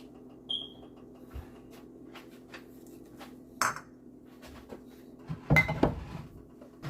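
A lid placed over a pot of simmering beef bulalo in a home kitchen, with a few scattered metallic clanks and knocks and one louder clatter near the end, all close by.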